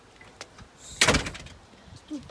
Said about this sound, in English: Push on the door.